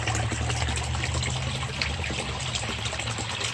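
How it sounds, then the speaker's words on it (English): Water that has run all winter pours into a thawing goldfish pond, a steady close rush and trickle that continues evenly without pause. "There's the water that's been flowing all winter there."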